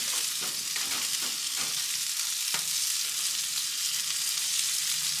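Steak sears in a cast iron pan over a gas grill, giving a steady, close hiss of frying that runs the whole time, broken by a few faint clicks and one sharp tap.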